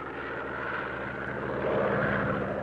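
The propeller engine of a Blohm & Voss BV 141, an asymmetric German reconnaissance aircraft, drones steadily and loudly with a rough, continuous roar that swells slightly toward the end.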